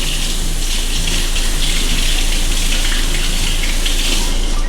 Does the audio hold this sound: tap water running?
yes